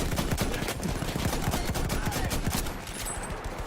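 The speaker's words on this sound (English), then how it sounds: "gunfire streaks by me in all directions" Dense, continuous gunfire from the World War I shooter Battlefield 1, with overlapping rifle and machine-gun bursts crackling in all directions, loud and chaotic throughout.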